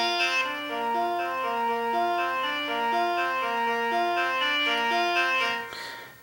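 Synth chords for an intro beat made in FL Studio Mobile, a warm layered progression stepping through stacked notes over a steady low drone, played alone and fading out near the end.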